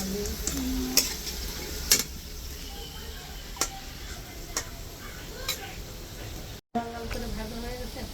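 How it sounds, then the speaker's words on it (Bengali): Potatoes fry in a pan with a steady, close sizzle, punctuated roughly every second by sharp scrapes and taps from stirring, with one brief dropout midway. "এখানে আলু ভাজা বসাই দিচ্ছে"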